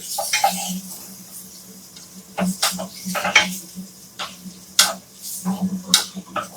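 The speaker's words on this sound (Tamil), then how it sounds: "வதங்குதுப்பா வதங்குதுப்பா மெதுப்பா. பெரிய அடுப்புல வச்சா எவ்வளவு ஸ்லோவா வதங்கினுக்குது" Mutton brain sautés slowly in a pan on a large stove, giving a soft, steady sizzle broken by repeated scraping and stirring clicks of a utensil against the pan.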